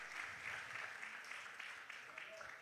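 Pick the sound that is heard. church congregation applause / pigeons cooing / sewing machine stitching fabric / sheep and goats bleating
church congregation applause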